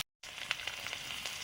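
Nigella seeds and green chillies hiss softly in hot oil, a short, faint, steady sizzle with a few small crackles right after a brief silent gap.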